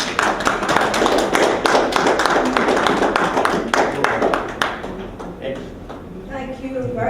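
A conference audience at a Caribbean diaspora engagement event claps steadily in a loud, dense round of applause that tapers off toward the end.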